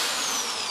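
A battery power drill driving fasteners into wood while building a stool, a loud, steady high-pitched motor whine running continuously up close.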